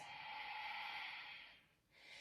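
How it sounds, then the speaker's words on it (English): A slow, steady exhale during a breathwork exercise, heard as a soft, close airy rush that fades out near the end before a faint new breath begins. "Breathing out."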